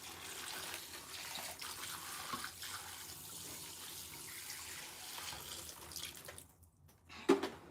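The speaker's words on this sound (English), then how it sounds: "And now I'm going to add the remaining water." Poland Spring water is poured into a cooler holding turkey brine, a soft, continuous splashing trickle that stops near the end, followed by a brief clunk.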